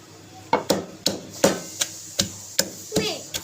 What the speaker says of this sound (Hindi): ये देखें अब इसको मैं अच्छी तरीके से कूट लूँगी